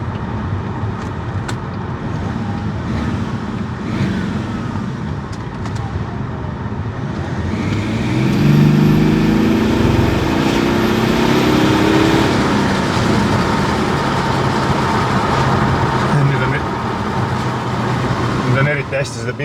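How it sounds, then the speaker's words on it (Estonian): Diesel BMW E61 530d (2005, M57D30TÜ engine) pulling under load on the road, a rising whine sweeping upward over steady engine and road roar, close and loud, with a faint high whistle near the top. "Teeme siit ühe turbovile ikka veel, vaata, siin on niisugune hea koht."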